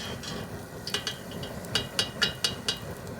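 Pork rinds frying in hot oil, a constant hissing sizzle with a series of sharp metallic scrapes and clinks as pieces are stirred and lifted out.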